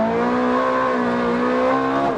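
Ferrari 430 Scuderia engine revving hard on a track, a loud, close, sustained high-pitched howl with a rich harmonic tone holding steady throughout.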